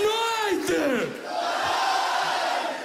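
Crowd noise at a live comedy show, loud and sustained throughout, with a swell of voices and a descending whoop at the start settling into a steady roar of cheering and clapping.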